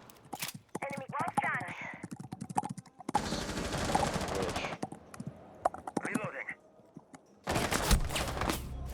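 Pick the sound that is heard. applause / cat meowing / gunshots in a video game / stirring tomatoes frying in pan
gunshots in a video game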